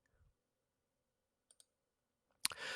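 Two quick, faint mouse clicks on an OK button in a virtual machine setup on a computer, in near silence, followed by a sudden louder burst of noise.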